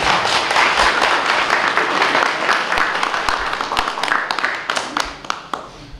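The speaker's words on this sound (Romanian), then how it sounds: "Aplauze pentru ei!" Audience applause at a Romanian folk group concert in Ruginoasa, a dense steady wash of many hands clapping that fades slightly toward the end, with sharper individual claps poking through near the close.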